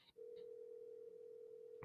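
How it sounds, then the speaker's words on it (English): A phone tone sounds as a single steady, unbroken pitch held for over a second, quiet and close, followed by a brief burst of noise at the end. "Oh, it is ringing"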